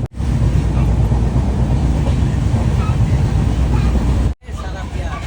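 Rumble and clatter inside a moving passenger train heading for Nepal, loud and steady with heavy low-end noise, cut by a short gap near the end before resuming.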